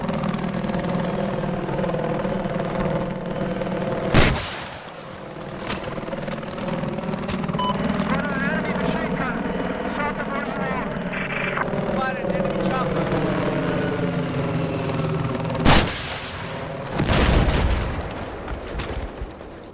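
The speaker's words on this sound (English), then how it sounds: "Enemy helicopter" Enemy helicopter in the video game Battlefield 4, a steady rotor and engine drone running throughout alongside gunfire, with two sharp loud bursts and people talking over the battle noise.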